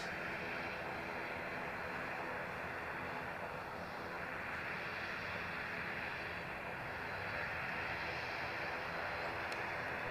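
An aircraft at Edinburgh Airport, landing or taking off, produces a steady, broad engine roar that holds even and continuous throughout, moderately distant and without any talk.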